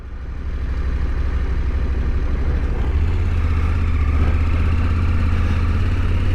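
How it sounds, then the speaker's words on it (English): A Husqvarna Norden 901 motorcycle engine idles close by with a smooth, steady low rumble that grows slightly louder partway through, with no voices. "This engine sounds amazing."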